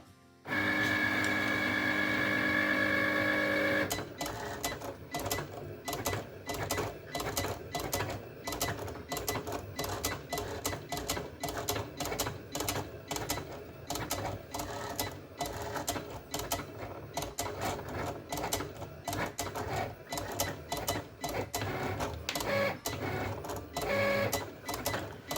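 A Cricut Explore cutting machine writes on a card with a gel pen, a steady whirring and rapid ticking of the carriage motor running close and continuous for the whole stretch after a brief higher whine at the start.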